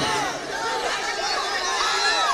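A large crowd at an outdoor political public meeting shouts and yells continuously, a dense roar of many voices holding steady throughout with no pauses.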